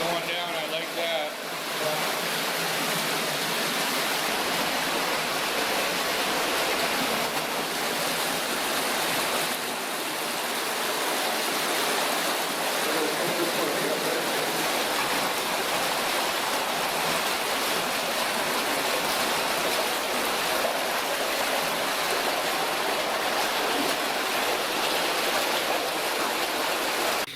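Water rushes steadily through a dark, muddy old flooded mine tunnel at Anyox, a continuous loud hiss-like flow filling the space for the whole stretch, with a voice briefly heard over it.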